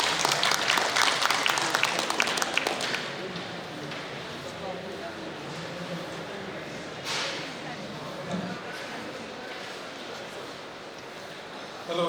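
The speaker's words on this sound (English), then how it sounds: "Can we please have sir with a round of applause" Applause from a conference audience at a healthcare event in Delhi as a speaker comes to the podium, loud and dense for about three seconds, then fading into a quiet room murmur.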